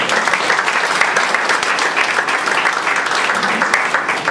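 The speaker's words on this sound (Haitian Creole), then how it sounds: "que je vous demande d'applaudir" A conference audience at a jurists' association event applauds speaker Jocelyne Magnan with dense, loud, continuous clapping from many hands, sustained evenly throughout with a faint crowd murmur beneath.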